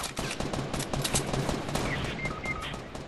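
Rapid bursts of gunfire in a Fortnite squads match, a dense fusillade of cracking shots in quick succession throughout, fairly close and sharp with no talk over it.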